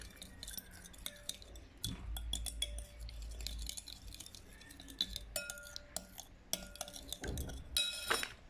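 Spoon stirring milk into a mixture in a bowl, giving faint close clinks and scraping taps against the dish in an irregular rhythm, with no talking.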